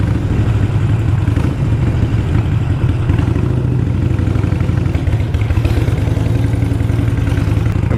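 A Harley-Davidson Iron 883 V-twin rumbles loud and close in a parking garage, its pulsing, clattering exhaust beat echoing off concrete walls without pause.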